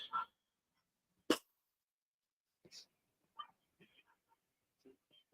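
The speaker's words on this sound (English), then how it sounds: "I can hear the dog fucking barking downstairs." Dog barking downstairs in a home, heard as faint, scattered distant barks in short bursts separated by near silence.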